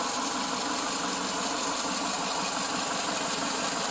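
A 2001 Subaru Legacy engine idles at operating temperature with the fans off; the car runs rough and overheats after an upper hose replacement. The idle is a steady, constant close-up hum with no talking.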